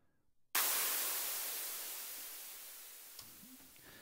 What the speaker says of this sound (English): maybe just turn the white noise up a tiny bit more